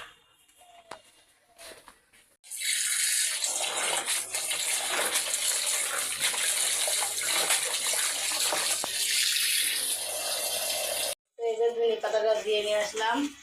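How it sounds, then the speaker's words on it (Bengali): Tap water runs hard into a sink basin while things are washed, a loud continuous gushing rush that starts abruptly, drops out briefly near the end and returns, with a few faint clatters before it. "আমি এখন ধুয়ে নিয়ে আসি ঘরে যাই বেসিংয়েতে ধুয়ে নিয়ে আসি"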